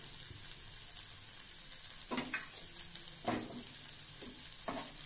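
Green peas sundal stirred in a pan, a spoon scraping in several distinct strokes over a faint steady sizzle, close and moderately loud with no talking.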